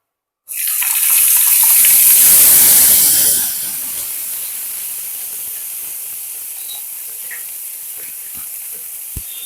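Grated onion drops into hot oil in a pan, bursting into a loud hissing sizzle that eases after a few seconds into a steady quieter fry with small pops.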